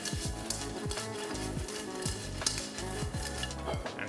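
Salt and pepper chicken wings tossed in a hot pan, a continuous sizzle broken by repeated rhythmic scraping and clanking of a utensil against the metal, close and fairly quiet with no talking.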